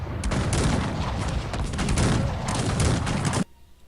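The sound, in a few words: artillery firing in the video game Cossacks 3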